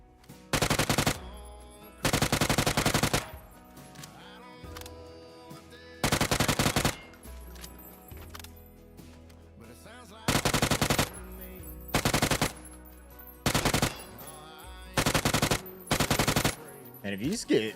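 A UMP submachine gun firing in the battle royale game PUBG, with about eight sharp automatic bursts of varying length separated by short pauses, loud and close against quieter game background.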